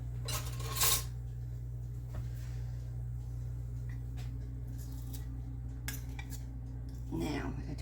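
A metal spoon stirs a hard rock candy mixture in a bowl. Sparse, light clinks and scrapes ring out against a steady low background hum.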